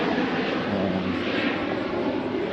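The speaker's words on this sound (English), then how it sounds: "go for a little flight today in the Corvalis, the TTX." A Cessna Corvalis TTx airplane's engine drones in flight, a loud, steady and continuous roar with no talking over it.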